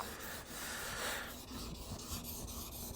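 A blade is stroked across a sharpening stone, a soft, faint rasping scrape repeated in a quick series of short strokes.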